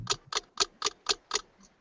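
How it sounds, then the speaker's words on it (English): A ticking clock sound effect gives six crisp, evenly spaced ticks about a quarter second apart, followed by a fainter seventh, close and clear against silence. "The first of which will be a ticking clock."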